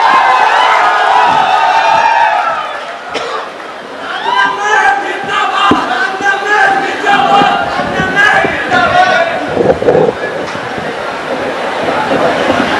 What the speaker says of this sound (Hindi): इसके बाद एक बार उनके लिए जोरदार तालियां बजा दीजिए, जोरदार तालियां